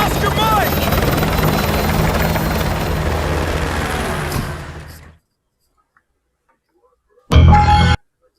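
Helicopter rotors in Call of Duty: Modern Warfare 2, a loud close chopping drone under voices that fades out around five seconds, then a short loud burst returns near the end.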